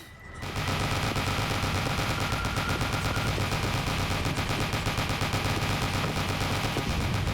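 Dual submachine guns fire nonstop in the video game Drake of the 99 Dragons, a loud, dense automatic rattle that begins after a brief moment and runs unbroken to the end with no voices over it.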